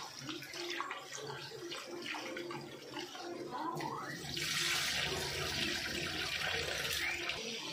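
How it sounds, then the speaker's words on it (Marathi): Water poured into washed rice in a pot for a mutton meal, a steady splashing pour that swells louder in the second half, with some faint talk in the background. "आपण पाणी टाकून घेतलं आहे"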